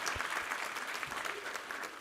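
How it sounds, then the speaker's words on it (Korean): A congregation claps steadily through a Sunday church service, a dense, even round of applause from a room full of worshippers, with no voices over it. "우리 하나님께 감사와 영광의 박수 올려드리겠습니다"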